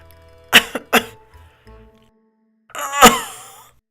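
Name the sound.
reader imitating a fake cough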